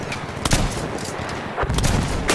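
Shotgun blasts in Battlefield 1 gameplay, several sharp loud reports at irregular intervals over a dense, rumbling battlefield background.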